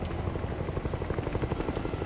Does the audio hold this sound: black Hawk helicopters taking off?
yes